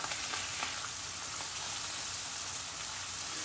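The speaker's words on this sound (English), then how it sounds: "We're just sauteing this fish." Unbreaded fish fillets saute in a thin layer of oil in a pan, giving a steady close hiss and crackle throughout.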